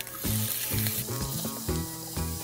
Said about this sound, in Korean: 김치도 가위로 대충대충 썰어넣고 볶아줍니다.